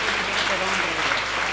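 Steady crowd applause at a religious sermon in Ramtek, Maharashtra, a dense continuous patter filling the short stretch at moderate level.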